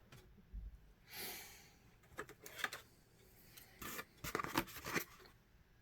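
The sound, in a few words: everyday scissors cutting paper for decoupage gift bag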